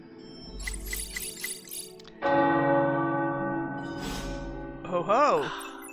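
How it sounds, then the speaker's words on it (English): Tower bells ring out in the game Midnight Suns, a series of resonant, sustained metallic strikes that swell and decay, overlapped by a speaking voice partway through. "The tower bells are ringing."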